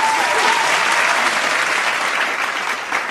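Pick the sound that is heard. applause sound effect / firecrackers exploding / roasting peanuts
applause sound effect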